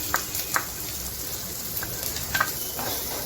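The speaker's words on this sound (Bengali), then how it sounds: "এবার এটা আমি এর সাথে ভেজে নেব" Washed, drained rice fries in a pan for a pulao, making a soft, steady sizzle with a few light scrapes from stirring.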